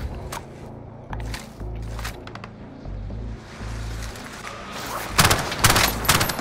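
Gunfire in a first-person shooter, with sniper shots among it: sharp cracks and short bursts over a low rumble, and a louder cluster of shots near the end.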